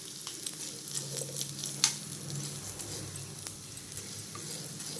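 Urad and moong dal dry-roasting in a pan, a soft rustling crackle with light stirring scrapes and an occasional sharper tick, close but fairly quiet.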